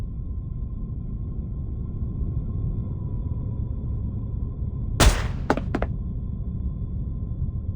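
A gunshot in the game Reverse: 1999: one sharp, loud crack over a steady low ambient drone, followed by two quicker, fainter snaps, with no talk.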